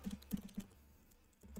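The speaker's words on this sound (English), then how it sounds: "I'm just typing out pseudocode for a second because it helps me think about it a little bit" Quiet computer keyboard typing of code, a quick cluster of soft clicks followed by a pause, close and alone without talk.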